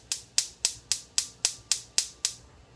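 Gas stove igniter clicking: eight sharp, evenly spaced clicks at a quick steady rhythm, fairly faint and close, with no talk.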